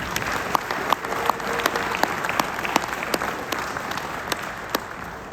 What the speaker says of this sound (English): Give the governor one more round of applause